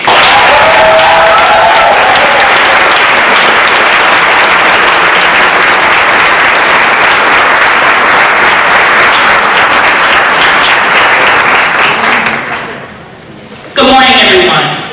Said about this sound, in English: Let's give her a round of applause, Cassandra Lee!